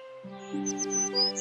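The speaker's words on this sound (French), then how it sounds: "Blanche-Neige fut réveillée par le chant des oiseaux" Birds chirp and sing in a forest, a close chorus of bright tweets and whistled calls rising over a steady tonal backdrop.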